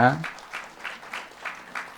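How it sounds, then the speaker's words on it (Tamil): Audience clapping at a Tamil film press meet for the movie Cooker, a short burst of applause pulses through the room after a brief voice at the start. "நீங்கள் எல்லாருமே உங்கள் கையை ஒரு தடவை நல்லா கை தட்டிக்கங்கன்னு நான் கேட்டுக்கிறேன்"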